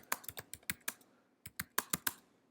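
Close computer keyboard typing in quick, uneven bursts, about a dozen crisp key clicks with a short pause in the middle, no voices.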